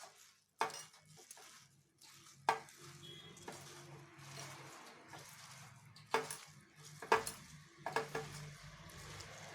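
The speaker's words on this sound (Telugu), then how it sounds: "అల్లం వెల్లుల్లి పేస్ట్ కొంచెం ఎక్కువ వేసుకోండి, బాగుంటుంది. వేసి ఇలా కలపండి." Spoon stirring ginger garlic paste into a soya chunk mixture in a pan, with soft scraping and several sharp clinks against the pot at irregular moments, close and fairly quiet.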